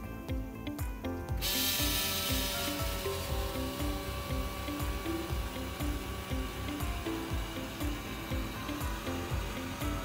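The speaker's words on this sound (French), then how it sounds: "On n'a qu'à appuyer dessus pour activer la pompe." A CDL high-vacuum sap extractor pump running in manual mode, switching on with a loud burst and then settling into a steady, fast mechanical chugging rhythm that continues to the end.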